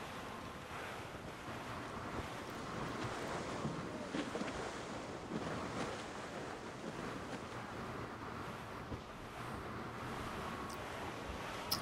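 Ocean surf rolls continuously in Assassin's Creed Rogue aboard a sailing ship, broad waves washing with gusty wind noise throughout, steady and fairly loud with no voices.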